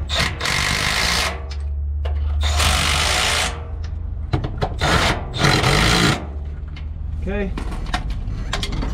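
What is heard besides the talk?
electric ratchet tightening bolts on Powerstroke diesel lift pump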